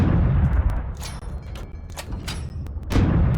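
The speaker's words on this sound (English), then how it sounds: "We're shooting the little gun." A tank's small secondary gun fires repeatedly in the video game Steel Aces, sharp close bursts over a rumbling engine and battle background, with heavier booms at the start and end.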